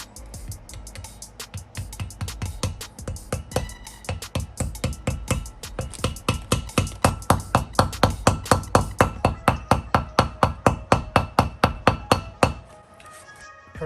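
Steady, evenly spaced hammer taps drive a wheel bearing seal into a rotor on an 82-92 Chevy Camaro, about forty sharp close strikes growing gradually louder before stopping.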